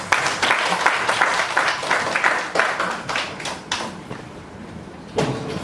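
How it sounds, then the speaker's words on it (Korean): A seminar audience applauds a speaker with dense, moderately loud clapping that gradually thins out, followed by one final burst of claps. "큰 박수로 부탁드리겠습니다"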